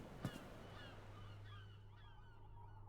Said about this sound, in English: I love that seagull sound effect.